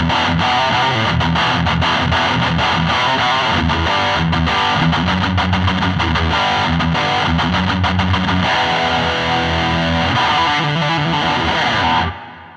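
Heavily distorted electric guitar through Empress Heavy and Javelina effects pedals playing metal, thick and loud with a swirling effects tone, chugging rhythmic chords that ring out and cut off at the end.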